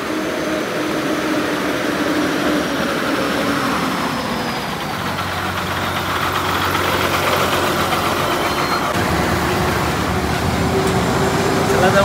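MSRTC bus on the Kelshi to Ratnagiri route with its engine running steadily, a continuous low rumble and drone throughout, fairly loud and close, as from inside the moving vehicle.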